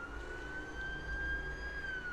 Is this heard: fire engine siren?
yes